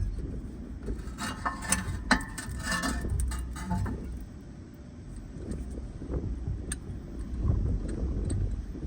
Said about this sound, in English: We are going to compress the brake caliper piston. We're just going to grab the old pad, put it over that like so.